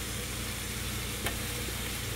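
Oil in a frying pan hisses and sizzles steadily as turmeric goes in for camel meat biryani, a close, even frying wash with one brief soft accent partway through and no talking.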